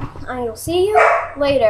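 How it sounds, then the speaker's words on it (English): A pet dog barks and yips close by, overlapping a voice as he speaks. "That's my dog."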